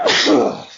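One sharp, close sneeze bursts out, brief and loud, with a short breathy tail before the sound cuts off.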